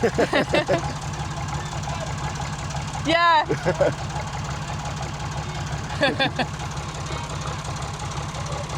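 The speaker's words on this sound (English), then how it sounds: "somebody admiring the engine sound." A narrowboat's diesel engine idles with a steady, knocking low thud throughout, while people talk nearby in brief exchanges over it.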